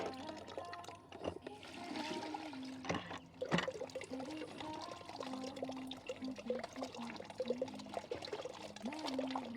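Clothes being washed and rinsed by hand in water, with irregular sloshing, pouring and trickling that rise and fall over several seconds, plus a couple of sharp knocks, heard close and fairly quiet with no talk.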